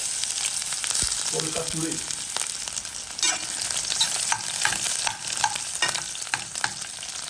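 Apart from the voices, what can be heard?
onions sizzling as they fry in a pot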